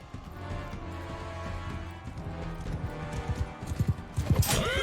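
Hooves of a galloping horse in the video game Mount & Blade 2: Bannerlord, a steady clip-clop that grows louder and heavier toward the end as the horse closes in, with no voices.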